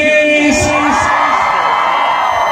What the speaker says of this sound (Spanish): ¡Grito de las mujeres!